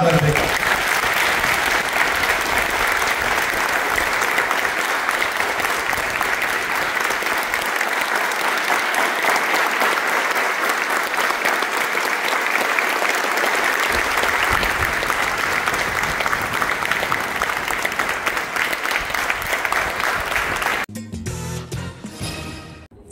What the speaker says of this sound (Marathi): सगळ्यांनी टाळ्या वाजवल्या.